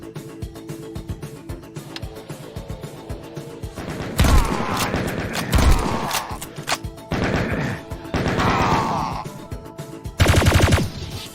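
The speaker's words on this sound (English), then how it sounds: "So, Doom shotgun, double shotgun," Shotgun and double-shotgun blasts and rifle fire in the video game Doom, with rapid bursts of gunfire over a driving game soundtrack, growing louder in heavy volleys with crashing impacts.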